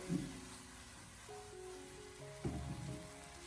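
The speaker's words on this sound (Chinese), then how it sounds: "最后将它大火翻炒出锅气" Garlic scapes and pork stir-fried over high heat in a wok give a faint, steady sizzle, with a couple of soft scraping clanks from the spatula.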